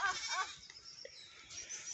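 A goat bleats on a farm in Assam, a faint, short call followed by a quieter second bleat, heard alone against a hushed background.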